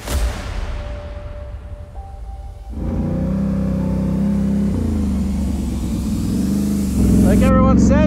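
An ATV engine runs and revs loudly while riding at about 30 km/h, its steady drone rising in pitch and surging near the end, with a voice talking over it.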